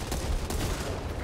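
A dense, rapid burst of gunfire rattles out close and loud in the co-op zombie shooter Back 4 Blood, forming a continuous fusillade.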